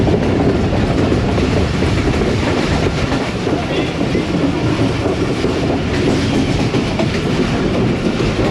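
The Rehman Baba Express rumbles along the tracks with a dense, loud, continuous roar and faint clickety-clack of wheels, heard from inside the coach throughout.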